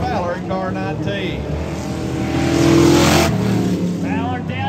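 Race car engines roar around Harris Speedway during a flag pole race, with a Toyota Avalon leading, swelling to a loud peak mid-lap and fading again while a commentator talks continuously over the noise.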